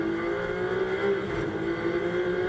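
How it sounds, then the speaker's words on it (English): Ferrari 296 Challenge race car with a 3-litre twin-turbo V6 of over 700 hp, racing at Misano in a Ferrari Challenge race. Its engine drones loud, steady and close, as from onboard, with no talk over it. "Love the sound of the 296 Challenge car. 3-litre twin-turbo V6 in excess of 700 HP."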